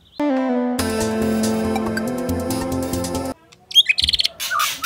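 A white-rumped shama sings loud, clear whistled phrases close by, followed by a rapid series of sharp chattering notes after a short pause.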